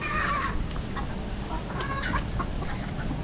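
Several chickens cluck and squawk nearby in short bursts, over a low rumbling background.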